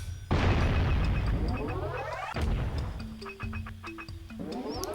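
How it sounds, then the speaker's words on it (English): Cannons fire in the Jak and Daxter video game: two heavy, close booms land near the start and midway, each followed by a rumbling decay. Chiming game tones and effects sound between and after the blasts. "I can actually use the cannons here."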